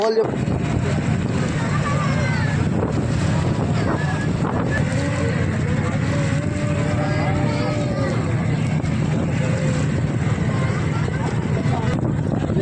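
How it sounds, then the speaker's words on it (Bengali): Aboard a river launch ferry heading toward Mayapur, a steady engine drone and rushing wind fill the air, loud and constant, with voices talking underneath. "লঞ্চে চেপে পড়েছি আমরা লঞ্চে আছি"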